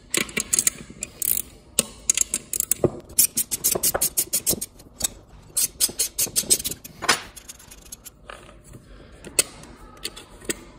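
A 10 mm spanner ratchets and creaks against a pedal bolt on a Logitech racing-wheel pedal set, with bursts of quick clicking strokes and scraping metal at close range, no talking.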